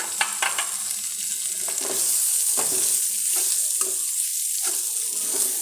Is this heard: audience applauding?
no